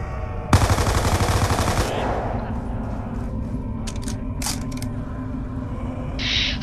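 Rapid automatic gunfire from Black Ops 2 Zombies, set in the Town survival map, rattles loud for about a second and a half, then fades into game ambience with a few short mechanical clicks and a brief bright tone near the end.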